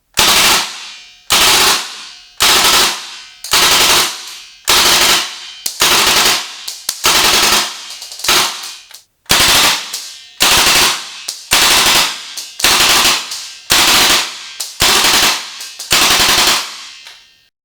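An airsoft gun fitted with an Acetech tracer unit fires loud, close bursts of rapid full-auto shots, about fifteen short strings separated by brief pauses, with no talk.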